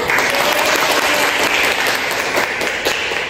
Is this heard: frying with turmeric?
no